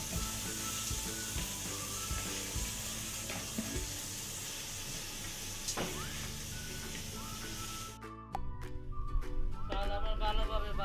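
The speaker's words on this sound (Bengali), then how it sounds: "চাল আমার ভালোভাবে ভাজা হয়ে গেছে।" Basmati rice frying with browned onions in a pot for beef kacchi biryani, giving a steady broadband sizzle throughout, with clinks and stirring clatter growing louder near the end.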